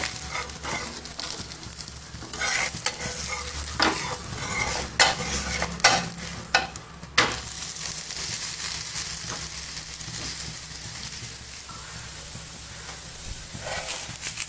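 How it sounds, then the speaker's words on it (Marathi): Maharashtrian bhajani thalipeeth fries in oil in a pan with a steady close sizzle, broken by several sharp scraping and clattering knocks as the flatbread is turned over. "ह्या अशा प्रकारे सर्व होलमध्ये आपण तेल टाकून घेतलंय आणि ह्याला आता आपण पलटी मारूयात।"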